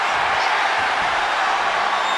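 Crowd cheering in the wrestling video game WWE 2K25, a dense, continuous roar of arena noise, loud and steady without a break.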